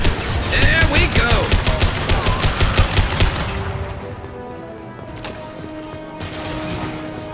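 Rapid gunfire in Mass Effect 2, dense bursts of shots mixed with mechanical clatter, loud for the first few seconds, then thinning into a quieter rumble with occasional impacts.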